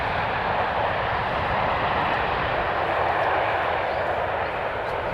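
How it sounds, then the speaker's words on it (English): Boeing 737 rolling fast down runway 18R at Amsterdam Schiphol just after reverse thrust, a loud, steady broadband jet roar that stays strong and close with no talking. "despite the reverse thrust applied, still a high-speed passage of the 737"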